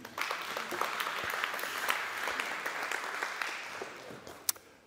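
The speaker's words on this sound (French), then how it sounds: "Sous vos applaudissements aussi." An audience at a French conference on territory and innovation applauds a cofounder as he is introduced, steady dense clapping for about five seconds at moderate level, no voices over it.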